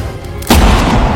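A single loud gunshot from a woman's gun in an animated film about Piglet, a sharp booming blast that rings out for a moment before cutting off abruptly.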